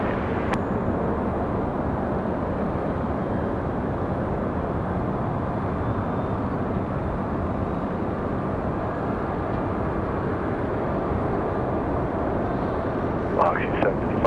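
A fixed-wing airliner rolls for takeoff on runway 23 left at Raleigh-Durham International, its engines a loud, steady roar that holds evenly throughout, with a faint high whine near the end.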